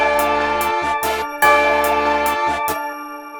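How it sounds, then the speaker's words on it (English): Tubular bell notes in a hip-hop beat spanning two octaves, ringing in a steady pattern of struck tones with long sustained overtones and a low bass layer underneath, fairly loud and with no voices. "I don't know too many people that use 2 octaves on a tubular bell, but I'm gonna do it today."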